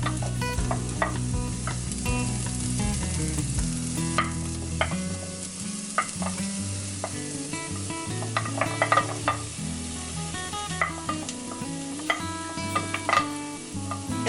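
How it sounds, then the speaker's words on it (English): Chopped zucchini and carrots sizzle and fry with onions in a hot pan while being stirred, a steady close crackle with scraping stirs and occasional utensil clicks throughout. "we are going to add our chopped zucchini"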